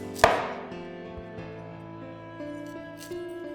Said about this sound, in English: to prepare the stems, just cut away the fibrous outer layers